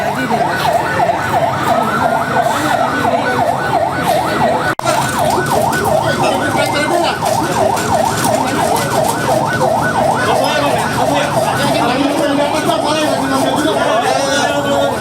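Several ambulance sirens wail with rapidly oscillating tones at the scene of a Jabodetabek commuter train crash near Bekasi Timur station, loud and continuous, with voices and road traffic mixed in.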